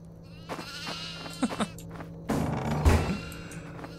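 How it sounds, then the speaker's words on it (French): Several goats bleat in short, wavering cries in the horror video game DEVOUR, some overlapping, over a low steady hum with occasional soft clicks. "Donc on peut libérer les chèvres là si tu veux"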